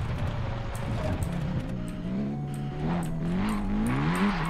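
A 2018 Honda Civic Type R engine in Forza Horizon 5, driven with a manual transmission, revs up and down repeatedly, its pitch rising and falling across several throttle blips, loud and close.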